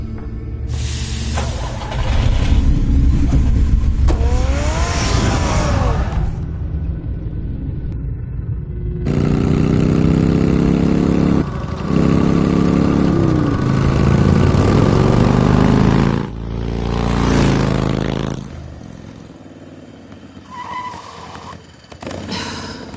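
Batmobile engine in the Batman Telltale video game, deep rumbling revs with rising whine sweeps in several separate bursts, loud and close, with short quiet gaps between them.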